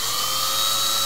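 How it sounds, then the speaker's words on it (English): A 1/4 inch bit drills a hole through a bent metal piece for a homemade recorder belt clip, giving a steady, loud, high-pitched whine that holds constant without pause and with no voices over it. "take a 1/4 inch drill bit and go ahead and drill into"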